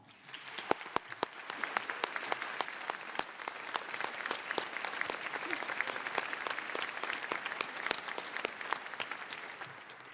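A large crowd at a high school graduation applauds steadily for the whole stretch, the clapping dense and even with a few sharper individual claps standing out.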